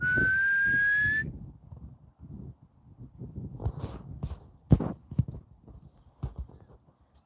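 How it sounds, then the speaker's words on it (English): A single steady whistle blast, rising slightly in pitch, sounds for about a second to call a dog outdoors by a river, followed by footsteps and scuffling. "It's like he didn't hear the real whistle"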